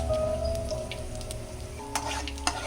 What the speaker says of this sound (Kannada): ಫ್ರೈ ಆಗಬೇಕು ಉದ್ದಿನಬೇಳೆ